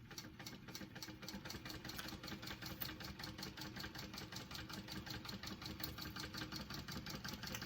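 A sewing machine top-stitches a fabric clutch with a continuous, evenly pulsing mechanical whir, faint and steady throughout, with no voices.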